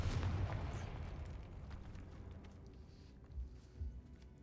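A Confringo spell explodes in the Hogwarts Legacy video game, a heavy booming blast up front whose rumble decays over several seconds, followed by a couple of softer thuds near the end.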